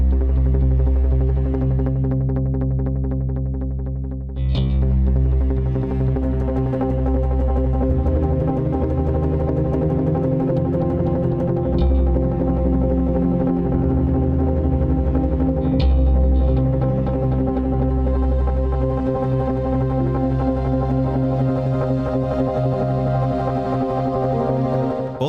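The Ether 1 synth patch from Audio Ollie Taste layers 13 instruments into a sustained, dense, bass-heavy chordal drone. It swells and shifts gradually, with a few soft accent hits along the way, and there is no talking.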